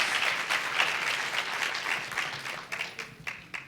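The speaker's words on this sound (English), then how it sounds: "Round of applause for Eric." Audience applause fills the room for a few seconds, a dense steady wash of clapping that thins into scattered individual claps toward the end.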